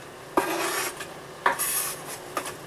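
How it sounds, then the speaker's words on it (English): Chopped onions slide into ground beef in a French oven, three separate scraping, rustling pushes with a clatter of utensil against the pot, close and fairly loud with no talking. "Let's go put these motherfucking onions into that beef."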